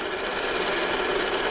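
A Dual Cine 8mm film projector that handles regular 8 and Super 8 film rewinds its reel, producing a steady, loud whirring motor drone with a fine rapid mechanical flutter, continuous and close.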